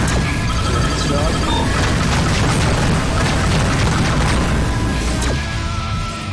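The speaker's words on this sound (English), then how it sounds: "that sounds like the tracer turret's doing its job" Rapid, continuous booming bursts of a tracer turret firing in the space combat game Rebel Galaxy Outlaw, loud and dense throughout with a crackling, explosive texture and faint tonal effects layered over it.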